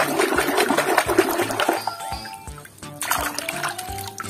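Water splashing and trickling over plastic toy animals as they are washed, uneven pours and drips close by, alone without voices.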